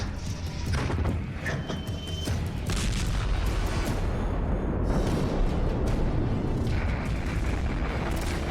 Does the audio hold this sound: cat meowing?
no